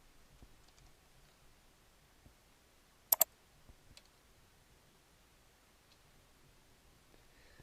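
Mouse clicks while working in the WordPress editor: a quick pair of sharp, close clicks stands out from an otherwise near-silent room, with a few faint ticks and rustles scattered around it.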